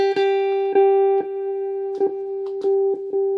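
A single electric guitar note picked over and over with an overdriven tone through a Tube Screamer pedal, each attack ringing into the next in an uneven rhythm.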